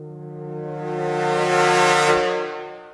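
The Angry Brass Pro sampled brass section plays a loud, sustained chord that swells to a raspy, blaring peak and then eases off, close and unaccompanied, with no voices.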